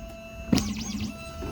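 An Xhorse Dolphin key cutting machine decodes a key, giving a short sharp mechanical onset followed by a rising and falling whirring motor tone with steady electronic hum, close and moderately quiet, without talk.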